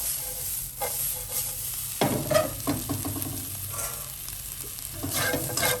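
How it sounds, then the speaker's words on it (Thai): Rice stir-fried in a wok with light soy sauce and oyster sauce, with beans and Job's tears, heard as a continuous close sizzle under busy scraping and clattering of a spatula, louder bursts of tossing midway, and no talking. "ใส่ซีอิ๊วขาว ใส่น้ำมันหอย น้องก็ทำข้าวผัดอร่อยค่ะแห้งดี"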